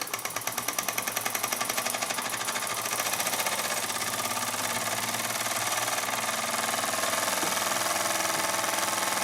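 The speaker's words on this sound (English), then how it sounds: "It's an excellent engine." A Burnac Vulcan model steam engine runs at a steady pace with a fast, even mechanical chuffing and clatter, loud and close, and the rhythm holds constant throughout with no voices.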